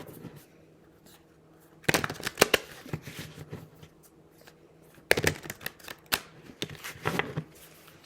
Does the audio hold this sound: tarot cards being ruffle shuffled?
yes